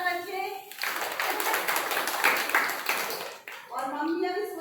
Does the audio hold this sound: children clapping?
yes